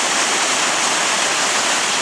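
Briksdal glacier waterfall near Olden, Norway, a dense steady roar of heavy pouring water, loud and close, with no break and no voices.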